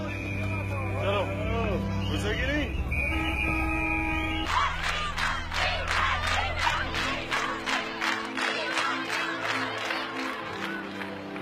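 Large crowds in Pakistan cheering and shouting for cricketer Imran Khan, a dense, loud roar that stays heavy throughout, with sharp bursts of yelling in the second half.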